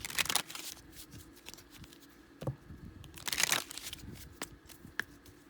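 A crisp new tarot card deck is shuffled close up in quiet bursts, papery riffles and crinkles coming in short clusters with pauses between them.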